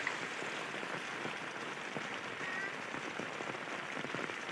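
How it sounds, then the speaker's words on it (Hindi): Heavy rain pours steadily onto surfaces during flooding in Bharatpur, Rajasthan, a dense, continuous hiss with scattered drop patters, even and moderately loud, with no voices. "लगातार बारिश का दौर जारी है।"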